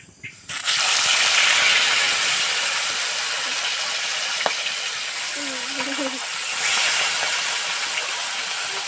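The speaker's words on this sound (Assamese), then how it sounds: "তো ইয়াত তেল গৰম হ'লে লাহেকৈ মাছকেইটা দি দিওঁ আৰু।" Fish fries in hot oil in a wok, a loud constant crackling sizzle that flares as the pieces go in and holds steady, with a brief clink and a faint voice partway through.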